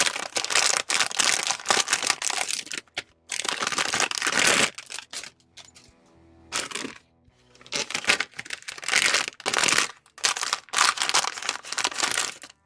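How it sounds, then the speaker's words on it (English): Loud, close crinkling of plastic bags holding Bandai HG 1/60 model kit parts, in repeated bursts with brief quiet gaps between them. "Just gonna destroy your eardrums with crinkling plastic."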